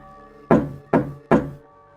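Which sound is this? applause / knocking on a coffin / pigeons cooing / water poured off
knocking on a coffin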